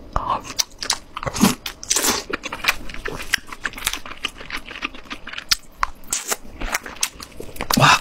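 Close, crisp bites and crunches of snack-like food dipped in a homemade chili salsa sauce during a mukbang eating session, coming in quick irregular bursts with chewing between them, loud and near with no talking.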